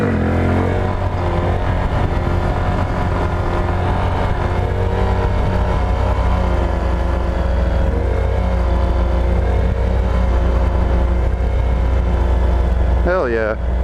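A Honda Grom motorcycle with upgraded clutch springs rides along, its engine droning and revving steadily and loudly throughout, with wind rush and a voice talking over it.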